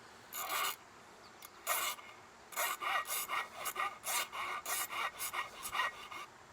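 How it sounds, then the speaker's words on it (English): Stainless steel tie wire has its cut end filed by hand, giving a series of close, rhythmic rasping strokes that come in bursts and then settle into a steady back-and-forth pattern with no talking. "you can just go ahead and grab a file. Make sure you're pushing on the back side when you're doing this."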